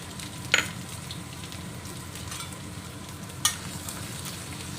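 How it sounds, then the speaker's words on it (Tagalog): Dried prawns sautéing in a pan while being stirred: a soft, steady sizzle and scraping hum, with two brief sharp clinks of a utensil against the pan. "Haluin lang natin siya ng haluin hanggang sa mag-golden brown siya."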